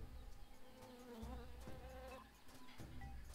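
A bee bird buzzes in the jungle of a Monkey Island game, a continuous insect-like drone that wavers in pitch, heard quietly alone for a few seconds.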